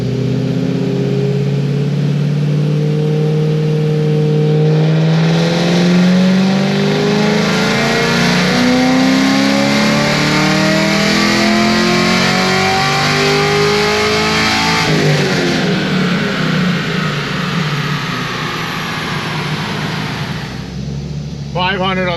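A head cam LS3 V8 on a dyno runs a cold full-throttle pull, its engine note climbing loudly and steadily for about fifteen seconds before easing off and fading, close and continuous throughout.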